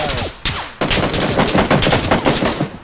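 Gunfire in the battle royale game PUBG: a loud, dense burst of rapid shots, starting with a few separated cracks and then running into a sustained string of overlapping reports.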